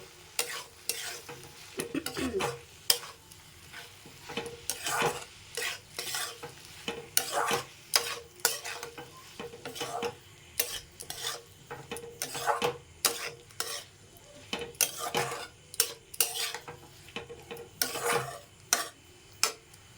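Pointed gourd and potatoes sauté in a pan while a spatula repeatedly scrapes and turns them, giving close, rhythmic clatters over a continuous low sizzle for the whole stretch, with no voices.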